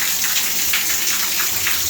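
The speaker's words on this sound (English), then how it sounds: "you switch to rainfall," Japanese shower head in rainfall mode, spraying a steady, hissing patter of water onto a surface, continuous and close throughout.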